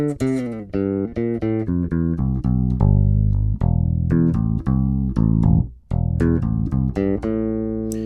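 A bass guitar plays a clean, dry melodic line of plucked notes, some sustained, with a short gap near the end.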